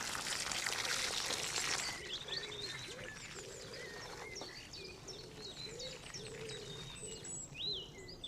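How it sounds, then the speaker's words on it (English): Newly planted garden plants being watered in, with a loud hiss of pouring water for about two seconds, followed by steady birdsong and cooing doves in the background. "all I need to do now, and this is really important, is to water them in."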